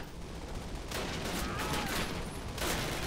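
Sustained gunfire in the video game Call of Duty, a D-Day airborne mission, with dense overlapping bursts of shots and a steady roar of battle noise throughout, no voices.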